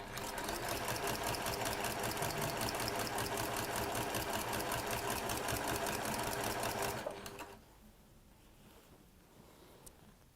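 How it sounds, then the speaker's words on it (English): A sewing machine stitches a quilt block through wadding and backing in a loud, steady, close whir. It runs for about seven seconds and then stops, leaving quiet. "make sure that you are keeping the wadding and the backing fabric out of the way as you're sewing"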